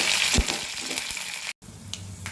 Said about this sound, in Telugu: ఎండుమిరపకాయలు, కరివేపాకు.